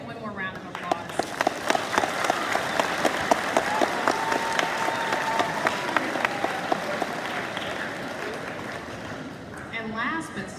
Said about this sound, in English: Y'all give them one more round of applause.